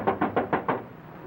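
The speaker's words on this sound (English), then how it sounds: "With a couple of cops hammering at the door." Five firm knocks on a door in quick, even succession, loud and close, with no voices over them.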